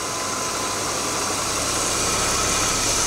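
A car engine idles roughly and shakes while 12 volts are applied to the VVT-i solenoid, giving a steady, close, noisy drone with no pause and no voices.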